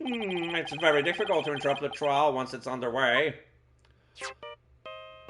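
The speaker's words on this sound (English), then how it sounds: "Oh, that's our phone call." A ringing phone chimes in the Ace Attorney Dual Destinies video game, two short electronic ring bursts after a voice finishes speaking, clear and close.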